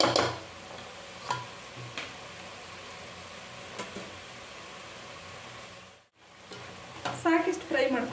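Ground masala spices frying in a pan for sambar, a soft continuous sizzle with a few stirring taps and clicks, briefly cutting out before a busier stretch of scraping near the end.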